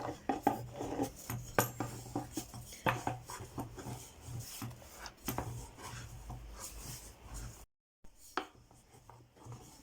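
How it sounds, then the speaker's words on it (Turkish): Pişi dough rolled out with a rolling pin on a floured surface, giving quiet, close rubbing and soft knocking strokes in an uneven rhythm, broken by a brief silence before the strokes resume. "Bu şekilde oklavayla açıyoruz."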